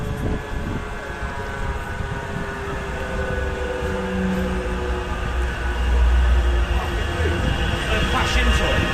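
A tram rolls past on city streets in Manchester, a steady rumbling rail sound with low swells and wheel noise, louder toward the end, with voices talking over it.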